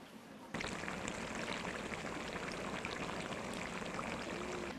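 Side dishes are tipped into an iron pot of goose stew, bringing a sudden onset of steady, close sizzling and rushing that holds until the end.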